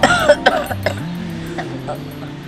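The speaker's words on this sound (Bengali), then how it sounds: "না না, এমনি কাশি আসছিল।" A person coughs a few times in quick, harsh bursts at the start, then the sound settles into a quieter indoor background.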